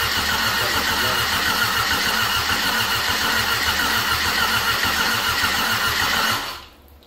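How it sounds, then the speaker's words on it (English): A Mercruiser 1.7L marine diesel engine cranks slowly and laboriously, with an even, rhythmic chugging of the starter that continues for about six seconds, loud and close, before cutting off without the engine catching. "we got to cranking on it, and it was kind of cranking slow"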